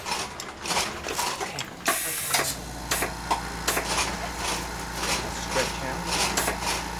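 A tatami-making machine's rack comes down and clamps onto a straw base, producing repeated clanking and ratcheting mechanical knocks over a low motor hum, with a brief spoken remark.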